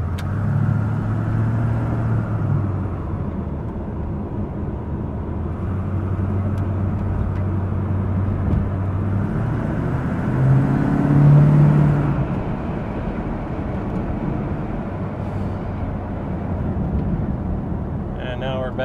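A 1963 Chevrolet Corvette Stingray split-window engine hums steadily while driving, with a couple of brief revs, under someone talking throughout.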